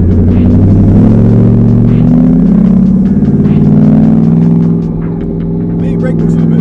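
A twin-turbo 2021 Ford F-150 engine rumbles steadily under load while driving in second gear, a loud, close, continuous low drone that eases slightly near the end, with people talking over it.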